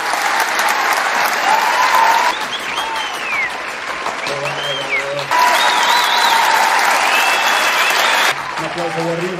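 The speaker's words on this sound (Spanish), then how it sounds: "Un aplauso porque aquí siempre aplauden padrísimo" A studio audience applauds on a Mexican film-and-TV programme, a dense, even wash of clapping that continues throughout while bits of music or tonal sound come and go on top.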